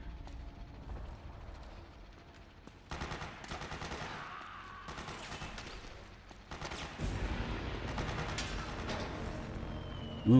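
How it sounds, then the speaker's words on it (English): Rapid gunfire and mechanical weapon clatter in Metal Gear Solid 4, bursts of repeated shots over a continuous game soundscape, growing louder toward the end. "but then he's gonna keep shooting"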